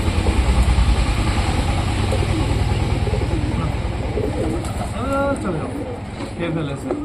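Sirazi pigeons coo softly in a rooftop loft at morning feeding time, their low murmurs mixed with a person's calling voice and faint background rumble.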